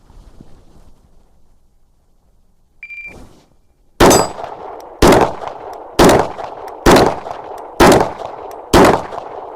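Six loud, sharp gunshots ring out about a second apart at close range while a rifle scope is being tested, each crack followed by a short decay, with a faint beep and a metallic clink just before.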